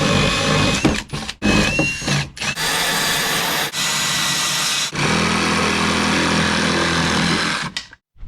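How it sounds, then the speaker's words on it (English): Power drill fitted with a hole saw cutting through corners of a part on a Land Rover Discovery, running in a loud sustained whine broken by several short stops and restarts before cutting off at the end. "We're probably going to use a drill bit with a circle saw just to cut through these corners"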